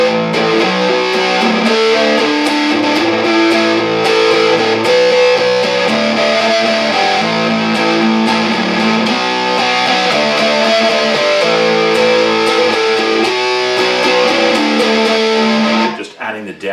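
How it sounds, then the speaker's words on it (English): Electric guitar played through a Boss BF-2 flanger with a distortion pedal on gives a dense, saturated, swirling tone that fills the whole stretch, loud and continuous, with chords and riffs shifting throughout before a sudden stop. "It is a mean sound with distortion pedal on."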